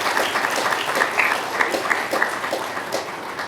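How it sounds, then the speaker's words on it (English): Applause from a breakfast crowd celebrating St. Patrick's Day musicians and dancers at Gracie Mansion, steady dense clapping with a few sharper peaks, filling the room for the whole stretch. "Give them a round of applause."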